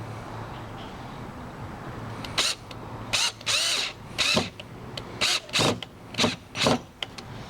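Cordless battery-powered drill used on a homemade storage box for Christmas supplies, running in about eight short close bursts of whirring with brief pauses between them over a faint background hiss.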